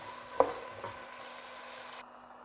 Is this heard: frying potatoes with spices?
yes